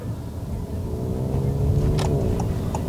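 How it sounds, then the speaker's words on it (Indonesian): A Honda HR-V RS on aftermarket coilover suspension rolls over a speed bump, with a steady low engine and road rumble that swells slightly midway and a faint knock or two near the end. "ketika lewat jalan polisi tidur seperti ini guys"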